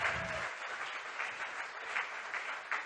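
A church congregation at a pastor's sermon applauds in a steady, faint wash of clapping, heard from a distance and holding evenly throughout.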